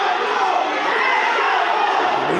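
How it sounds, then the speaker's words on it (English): A professional wrestling crowd in Villa Rica roars and cheers in a steady, dense wash of voices filling the venue, loud and continuous without pauses. "We hear this Villa Rica crowd cheering on, not Judias, they're cheering on the boss"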